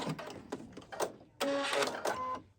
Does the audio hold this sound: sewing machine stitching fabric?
yes